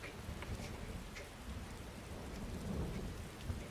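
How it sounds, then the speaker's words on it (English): Heavy rain and rolling thunder from a video-game thunderstorm form a steady, dense wash, with a louder rumble swelling near the end and no voices. "Boy, these storms is loud."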